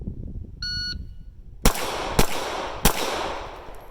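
Three sharp gunshots ring out at an outdoor shooting range in Dundee, Oregon during a torso, torso, head target drill, spaced about half a second apart after a short electronic timer beep.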